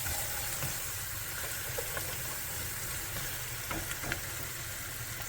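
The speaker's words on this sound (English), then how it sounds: "whisk it up." Flour whisked into hot beef fat to make a roux in a pan, giving a dense, steady sizzle and bubbling close up, with faint scraping clicks of the whisk now and then and no speech.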